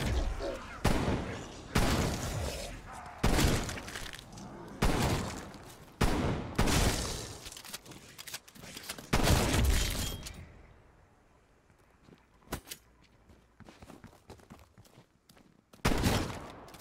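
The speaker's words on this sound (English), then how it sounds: "I can shoot a zombie." Rapid gunfire from zombie-shooting in Cold War Zombies comes as loud, sharp bursts about every second or so, then drops to a quiet stretch with scattered faint hits before one last loud burst.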